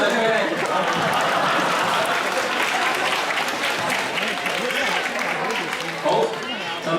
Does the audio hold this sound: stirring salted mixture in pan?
no